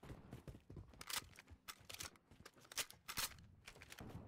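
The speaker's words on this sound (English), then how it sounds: "Switching mags." Weapon reloading in Call of Duty: Modern Warfare 2, a series of quiet metallic clicks and clacks as a magazine is swapped, with faint background game sounds.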